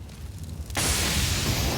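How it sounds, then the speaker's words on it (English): Incendiary molotov in Counter-Strike on the Mirage map, a sudden burst of loud hissing, roaring fire flaring up after a quiet moment and burning steadily. "Incendiary set."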